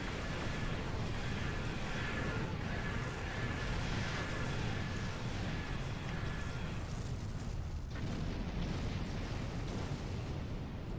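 Torpedoes firing in Star Trek Online: a steady, dense roar of blasts and bursting energy that holds loud for the whole stretch, with a brief sharp break near the end.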